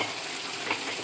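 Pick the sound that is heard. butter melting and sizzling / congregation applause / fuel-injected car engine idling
butter melting and sizzling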